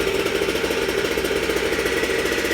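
A Goped G290RC scooter engine fitted with a Sikk Toys expansion pipe and an Engine Trix air scoop, running without its silencer, idles close by with a steady, buzzy, pingy drone.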